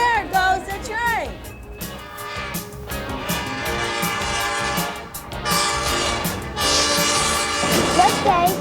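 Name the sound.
train passing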